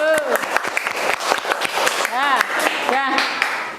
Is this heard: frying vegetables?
no